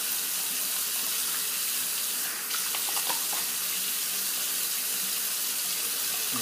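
A bathroom tap runs in a steady, close hiss of flowing water while a face is wetted before a wet shave with a Merkur 11c safety razor, with faint splashing and no speech.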